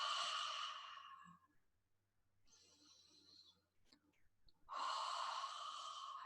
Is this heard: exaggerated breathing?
yes